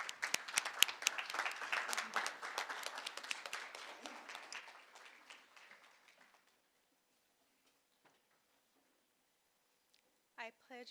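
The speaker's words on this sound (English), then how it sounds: "If we can please stand and give her a round of applause." An audience at a school board meeting gives a round of applause, many hands clapping loudly for several seconds before thinning out and fading to silence, with a few faint taps afterward.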